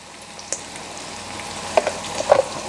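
Dodo (fried plantain) and gizzard sizzling in a pan as chopped bell peppers and onions go in, a constant frying hiss broken by a few crisp pops and spoon scrapes near the end.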